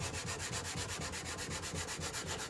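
Steady back-and-forth rubbing of a Scotch-Brite pad along the grain of a wooden tabletop, a close, even scrubbing rasp repeating in quick strokes with no talk.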